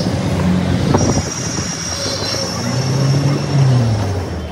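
A Kolkata Metro train at Girish Park station rumbles close by, with a high, sustained wheel squeal running through it and faint voices in the background.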